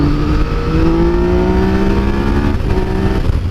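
A Yamaha MT-09 (FZ-09) motorcycle engine rumbles steadily, its exhaust note rising and falling with rising revs, loud and close throughout.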